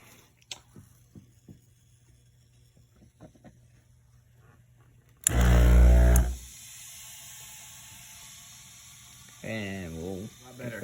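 An Antunes DFW-150 steamer bursts into a loud, steady hiss of steam for about a second, then cuts off, followed later by a brief gurgling, bubbling sputter; sparse faint clicks fill the quiet stretches.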